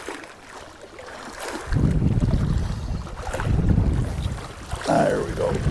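Wind on Lake Kabetogama while fishing from a boat, buffeting the microphone in rising gusts after a quieter start, a rough rumbling roar that surges and eases.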